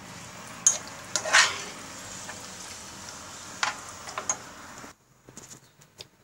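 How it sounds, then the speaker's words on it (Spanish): Noodles in a carrot and beet sauce being stirred in a pan as they heat, with soft scraping and a few light clinks of utensil against the pan over a low, steady background, then quieter at the end. "Voy a mezclar"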